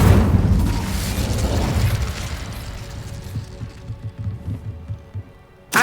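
An Incendio fire spell going off in Hogwarts Legacy: a loud booming whoosh of flame that fades into throbbing, crackling rumbles and scattered pops before a final sharp burst.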